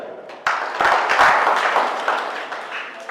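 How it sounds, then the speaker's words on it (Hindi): Crowd at a political rally clapping, a dense burst of many hands that starts abruptly, swells, and continues steadily at close range. "आप सबने ताली बजा के मुझे आशीर्वाद दिया।"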